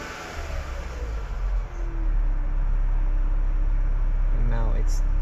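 A car engine is given a little more throttle, and a low steady hum rises slightly and firms up partway through, heard under a voice talking close by.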